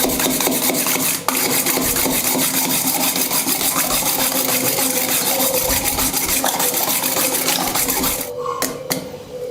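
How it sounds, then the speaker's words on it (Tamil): An egg is beaten by hand in a bowl to mix it for crispy egg fingers. A continuous, dense rubbing and scraping runs steadily for most of the clip, then breaks into a few short knocks near the end. No one talks. "இப்போ வந்து அந்த முட்டையை வந்து நல்லா உடச்சி அதனால் மிக்ஸ் பண்ணிக்கலாம்."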